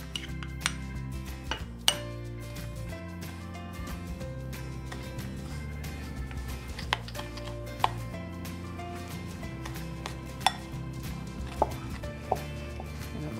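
Sugar, butter and almond paste being mixed into a Danish Kringle pastry filling, heard as quiet scraping with irregular sharp clinks and taps of a utensil against a bowl, close up and with no talking.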